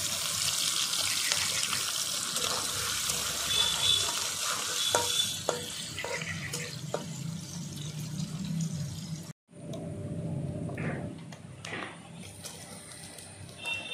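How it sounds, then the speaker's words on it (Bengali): Shrimp frying in a wok of hot oil, a loud steady sizzle with stirring clatter throughout, briefly cut off near the middle before resuming a little quieter. "তেল গরম হয়ে গেছে বন্ধুরা। চিংড়ি মাছগুলো ভেজে নেব প্রথমে।"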